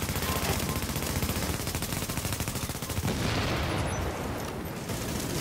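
Rapid bursts of automatic gunfire rattle continuously as players are shot at in a multiplayer game, loud and dense throughout, with a brief shift in texture midway.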